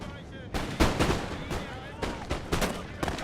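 Musket volleys from infantry lines in a video game battle against bombardment mortars, a rapid string of loud overlapping gunshot cracks and booms with ongoing battle clatter beneath.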